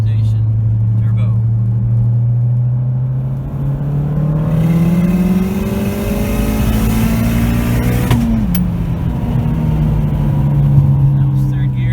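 Ford Fiesta ST (2015) fitted with a reverse-rotation G25-550 turbo kit pulls hard through third gear toward 7,000 rpm, a loud, steady rising engine drone with turbo whoosh, heard from inside the car and briefly dipping at a shift.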